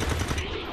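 A single burst of gunfire in the turn-based strategy game XCOM 2, short and loud, crackling over a dense low rumble that fades quickly.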